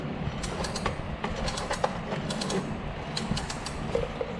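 A Can-Am clutch being twisted by hand, giving a series of close creaks, clicks and ratchety grinding over low mechanical rumble, in irregular bursts with no talking.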